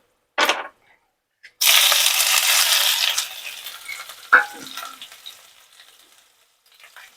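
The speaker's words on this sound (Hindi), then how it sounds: "इसको हम काट लेते हैं रफली चॉप्ड, और इसको हम डाल देते हैं तड़के में।" Roughly chopped onion dropped into hot tempering oil for methi sabji erupts into a loud, close crackling sizzle after a couple of sharp knocks, then a clink, and the frying gradually settles and fades.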